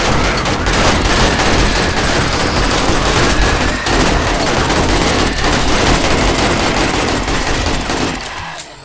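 Dense, continuous gunfire in the video game 7 Days to Die: rapid automatic bursts blend into a loud, unbroken clatter that cuts off abruptly near the end.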